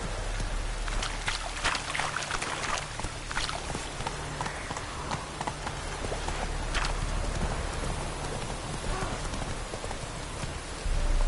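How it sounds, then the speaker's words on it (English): Heavy rain pours down in a video game world, a dense steady hiss of drops on surfaces with faint hoofbeats mixed underneath, continuous throughout. "Rains like this come so fast."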